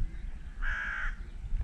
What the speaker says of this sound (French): je vais attendre que l'oiseau se calme un peu